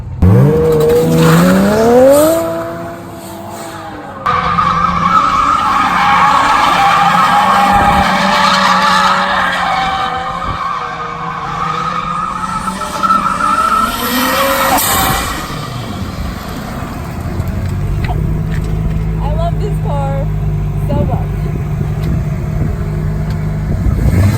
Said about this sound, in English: It smokes the tires, does well.